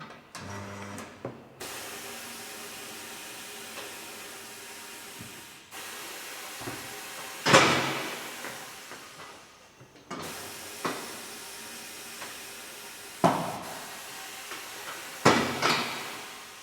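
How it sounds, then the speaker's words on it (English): Tyre changing machine bead-breaker arm pressing into the side of a tyre to break the bead free, heard as several sharp pneumatic hisses and thumps spaced apart over a steady workshop background. "This is where an arm comes in at the side and breaks the bead off the side of the tyre."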